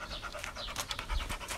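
A dog pants rapidly and rhythmically, close up, with quick breathy huffs repeating throughout the short clip.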